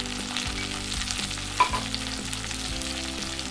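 Tomatoes sautéing in hot oil for vendakkai kara kuzhambu, a South Indian okra curry, with a steady close sizzle and frying crackle, plus a brief stirring clink partway through.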